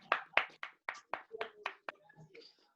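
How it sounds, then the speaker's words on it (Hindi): An audience claps to welcome a speaker at a webinar, about nine separate, fairly sparse claps in an uneven rhythm, close and fairly faint, trailing off into quiet at the end. "आइए सलाउद्दीन सर, वेलकम, जोरदार तालियों के साथ।"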